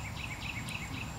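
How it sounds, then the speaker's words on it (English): Cicadas call outdoors in a steady, pulsing high-pitched buzz with repeated short bursts over a low background rumble, no voices. "You can hear those cicadas calling,"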